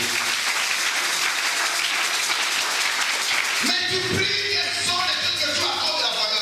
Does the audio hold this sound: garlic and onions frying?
no